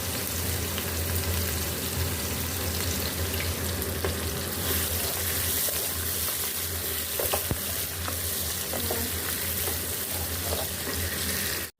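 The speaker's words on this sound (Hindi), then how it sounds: "अब इसमें हम प्याज डालेंगे और प्याज को हमें फ्राई कर लेना है।" Onions fry in hot cooking oil with whole garam masala spices in a pan, a loud, steady sizzle with occasional stirring scrapes running throughout.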